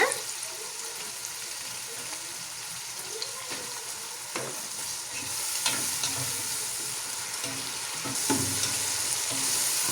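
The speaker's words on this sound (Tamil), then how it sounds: "இது நல்லா வெங்காயம் தக்காளி உப்பு சேர்த்து நல்லா வதங்கி கொண்டிருக்குது" Onion, tomato and ginger-garlic paste sauté with salt in a pan for a chicken rice dish, giving a steady close sizzle with occasional stirring scrapes and bursts of louder frying.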